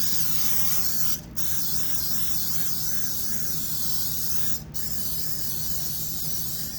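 Cooking spray hisses steadily from an aerosol can onto a small pan and two 9x13 baking pans in two long bursts, with a brief pause between them, close and loud.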